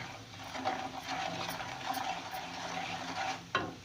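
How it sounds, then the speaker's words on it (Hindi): Masala for a fish curry fries and is stirred in a pan, giving a steady, close sizzle with scraping strokes and a sharper clatter near the end, with no talking. "चले मैं मसाला भूनती हूँ, फिर आपको दिखाती हूँ।"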